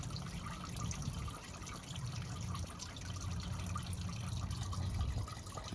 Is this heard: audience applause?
no